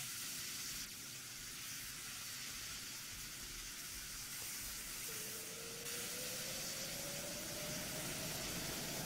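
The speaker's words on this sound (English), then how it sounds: "You see the new steam effect." Steam effect venting on a carrier deck in the ROS Carrier Deck V2 video game, a steady loud hiss running throughout with a faint rising whistle-like tone in the second half.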